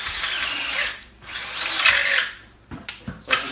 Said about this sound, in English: you're going to have to drill the hole all the way through